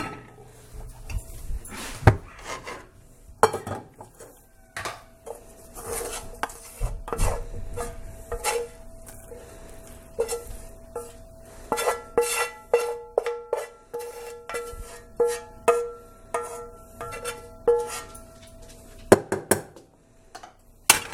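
Cooked onions are scraped and spooned out of a metal pan into a bowl in a home kitchen, with repeated close clinks, scrapes and knocks of utensil on pan, fast bursts in the second half.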